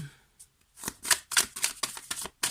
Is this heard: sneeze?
no